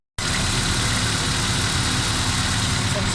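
A 2016 Suzuki Cultus EFI engine, running with a head-pressure fault and water in the oil, fires up abruptly and settles into a loud, dense, steady idle rumble close by.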